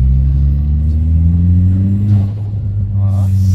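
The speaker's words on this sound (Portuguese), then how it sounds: "Se acelera aquele espirro, meu carro faz o flutter ainda." A cheap turbocharged car engine revving, a loud close rising drone that climbs steadily in pitch, with a brief fluttery burst near the end.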